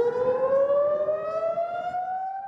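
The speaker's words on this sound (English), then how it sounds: "you might not notice these sirens unless it's the first Saturday of the month or an emergency" A loud Jackson County civil defense siren wails steadily, its tone slowly rising in pitch, with no other sounds.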